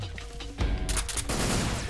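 Gunfire in the video game Metal Gear Solid 3: Snake Eater, a short burst of loud shots cracking over a low game soundscape, with a sharp onset midway and rapid reports continuing to the end.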